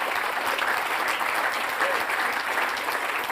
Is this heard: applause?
yes